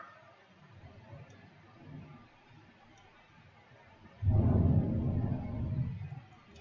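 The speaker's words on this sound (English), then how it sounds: "that was some thunder" Thunder rolls in as a deep, low rumble that swells suddenly after a few quiet seconds, holds loud for about two seconds, then fades away.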